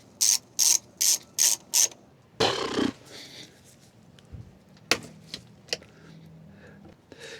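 A ratchet wrench loosening golf cart battery connectors: five quick evenly spaced ratcheting bursts up close, then a clunk and scattered metallic clicks and taps.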